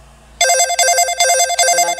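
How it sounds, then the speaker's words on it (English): The default office-style ringtone plays loud and close on a Google Pixel 3a phone, a repeating electronic ring in short bursts after a quiet start, with no talk. "And the default is the office sound."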